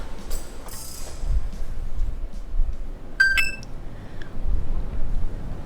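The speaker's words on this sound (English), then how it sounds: "my phone dings with an email from the school administration" A phone chimes with an incoming email notification, a short bright ding with a few quick high tones standing out over a quiet, low background hum.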